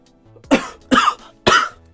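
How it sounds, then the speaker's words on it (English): Three harsh, close coughs, evenly spaced about half a second apart, each a short loud burst. "Actually, the coughing might make it better."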